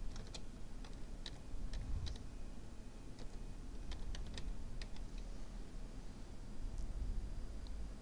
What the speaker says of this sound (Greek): πατάμε το πλαίσιο Ετικέτα τόμου και πληκτρολογούμε την αντίστοιχη ετικέτα